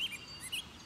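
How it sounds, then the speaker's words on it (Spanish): A cartoon bird call from a rare, colorful bird in a children's animated show: a short burst of high chirps, quiet and clear with no voices. "Suena como un pájaro raro y colorido."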